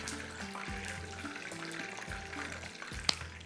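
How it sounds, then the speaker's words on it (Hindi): Hot oil tempering crackles and sizzles steadily as it is poured over coconut fish in a pan, with a brief sharp clink near the end. "अब हो गया ये गरम और अब जा रहा है गरम गरम इसके ऊपर तड़का।"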